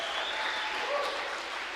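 A church youth-panel audience claps as a state leader is welcomed, a steady wash of applause that is moderately loud and fairly distant throughout.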